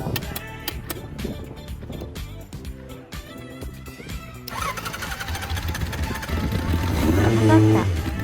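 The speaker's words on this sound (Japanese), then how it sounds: "ではエンジン始動。" A Kawasaki Zephyr 1100 motorcycle undergoing restoration cranks with a rapid starter clatter, then the engine catches and settles into a rumbling idle that swells louder near the end, with a voice speaking over it.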